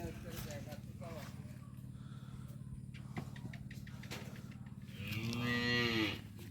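A Holstein Friesian heifer at a dairy farm lets out a loud, close moo near the end, over a steady background of someone talking throughout.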